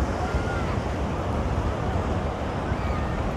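Steady surf washes on a beach at midday under a slight breeze, a continuous broadband wash with wind buffeting the microphone, fairly loud and without pause.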